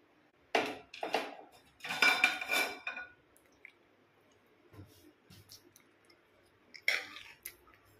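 Paneer fried rice with shallow-fried paneer cubes being gently mixed in a pan, giving a few soft clinks and scrapes of a spoon against metal in short bursts, with quiet stretches between.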